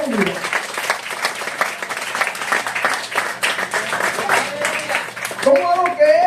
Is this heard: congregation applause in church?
yes